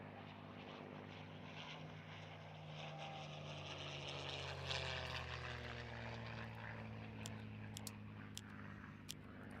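In a World War II bombing game, B-17 and B-24 bomber engines make a continuous, low propeller drone with a wavering pitch that swells slightly midway, accompanied by a few faint clicks toward the end.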